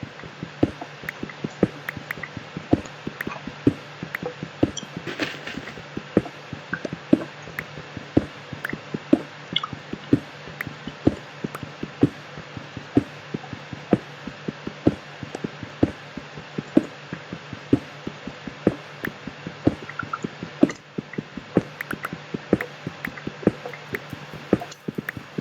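Water in Minecraft plays as a steady loop of small drips, plops and squishy liquid sounds. The patter is irregular, close and fairly quiet, with no voices.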